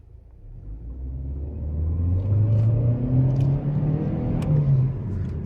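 A 2024 Chevy Malibu's 1.5-liter engine paired with a CVT accelerates from a low rumble into a rising, steady drone that swells and holds, heard from inside the car without talking.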